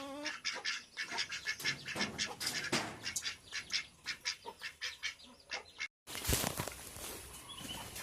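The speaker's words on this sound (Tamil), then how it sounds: "ஏதோ ஒரு குஞ்சு இங்கிட்ட கத்துற மாதிரி ஒரு சவுண்டு கேட்குது" Young chick chirping and calling near a poultry enclosure, a dense run of sharp repeated cheeps fairly close, with a brief gap and then more busy bird calls.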